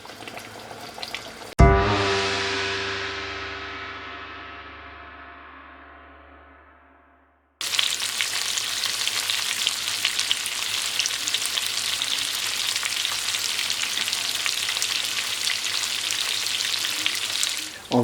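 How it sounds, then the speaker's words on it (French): Vegetables, including potatoes, simmer on the corner of a stove. A ringing metallic tone fades out slowly first, then a loud, even, close hiss of bubbling cooking fills the rest. "on va laisser sur le coin du fourneau encore mijoter quelques minutes pour finir nos légumes"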